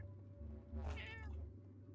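A cat in the Minecraft video game lets out a single clear meow, rising then falling, close and fairly loud over a low steady background hum.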